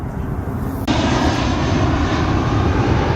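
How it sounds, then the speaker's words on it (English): A fixed-wing airplane flies low overhead near an airport, a loud, steady engine roar that swells suddenly after the first second and stays close and dominant, with no speech. "the airplanes fly very close, as the airport is just right over there"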